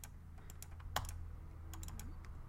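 Sparse keystrokes on a computer keyboard, a few soft clicks and one sharper tap, quiet over a low steady hum.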